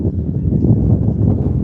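Strong, gusty wind of about 20 mph with gusts into the high 30s during a flight of a small E-flite UMX A-10 Thunderbolt II RC plane, a steady low roaring rumble buffeting the microphone.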